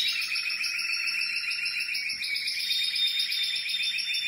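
A songbird, one of three males, sings a sustained bright song in steady high trills and tweets, clear and fairly near, with no talking.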